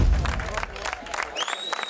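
Supporters clap outside a prison, a dense burst of applause from a crowd that is loud at first, then thins to scattered claps, with a faint whistle near the end.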